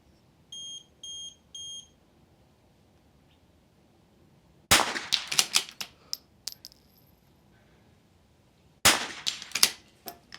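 Sharp .22 rifle shots fired during an NRL22 match stage, coming in two quick bursts of several cracks each and ringing loud and close, preceded by three short electronic timer beeps.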